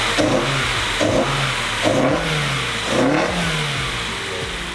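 A Nissan S15 engine revving with the bonnet open, sounding loud and close, with repeated blips of throttle rising and falling over an idle, about four revs in a row.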